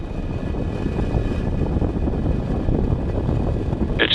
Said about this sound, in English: And liftoff of the Falcon 9 and Starlink.